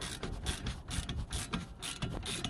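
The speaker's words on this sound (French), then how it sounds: "un cliquet douille H7 et puis vous dévissez" A ratchet with an H7 socket unscrews the mounting bolts of a car's front brake caliper during a disc and pad replacement, a steady run of fast, close mechanical clicking with no talk.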